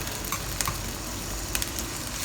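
Sizzling and stirring of sweet and sour fish sauce with plum paste in a hot pan, a steady broadband fizz with a few soft scrapes of the utensil, close and continuous, no voices.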